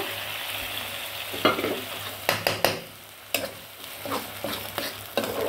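Ground spice paste being added to tomato frying in a pan and stirred in, a steady close sizzle broken by several scraping and tapping utensil strokes against the pan, with a brief dip in the frying noise partway through.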